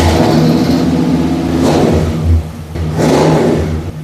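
A 1966 Ford Galaxie V8 fires up and revs, a loud close rumble surging twice in quick succession with a brief dip between, no voices over it.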